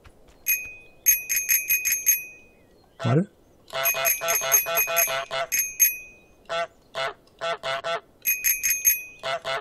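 A bicycle bell in Untitled Goose Game rings repeatedly in quick bright trills, alongside goose honks and other game sounds, with someone briefly speaking.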